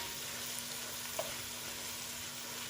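Onions caramelizing in a cast iron pot give off a steady, soft sizzle and frying hiss with no break, heard alone without any voices.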